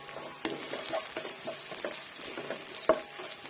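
Squid frying in a pan with chili, ginger and garlic: quiet sizzling under scattered clicks and taps of stirring, with one sharper knock near the end.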